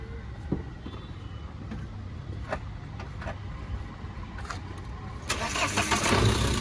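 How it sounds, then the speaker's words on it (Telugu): A 2015 Mahindra Scorpio S6+ engine catching on a single self-start, a low continuous engine rumble with light clicks, rising into a louder surge near the end. "సింగిల్ సెల్ఫ్ అయితే బండి స్టార్ట్ ఉంది సార్."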